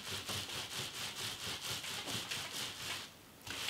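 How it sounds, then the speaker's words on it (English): Hands rub wool fibre laid over silk fabric during wet nuno felting, producing a close, regular back-and-forth swishing rhythm of about a dozen strokes that pauses briefly near the end. "This rubbing is actually starting the process."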